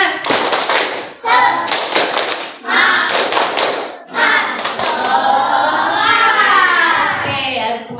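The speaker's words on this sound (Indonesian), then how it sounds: "Tepuk semangat." A group of students performs the 'tepuk semangat' spirit clap from their seats in a classroom, loud patterned bursts of clapping in several short rhythmic blocks, with voices chanting along near the end.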